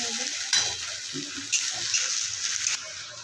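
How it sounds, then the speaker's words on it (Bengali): Ginger garlic paste fries in a pan over a low flame, making a soft continuous hiss broken by light scraping and stirring taps from a spoon. "এবার এটা হালকা আঁচে ভাজা ভাজা হবে, দেখতেই পাচ্ছ ভাজা ভাজা হচ্ছে"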